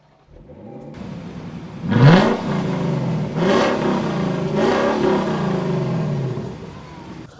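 A Lexus LC500 exhaust revs sharply three times, each roar swelling loud and deep before settling back to a rumbling idle.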